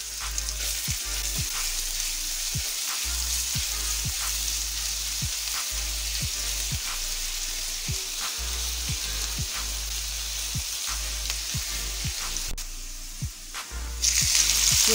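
Garlic ginger paste frying in hot oil for a kidney bean curry, a loud, continuous close sizzle with regular stirring scrapes and a brief louder burst near the end.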